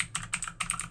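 A computer keyboard being typed on to enter a command, with quick, close, crisp key clicks in a short burst of several strokes.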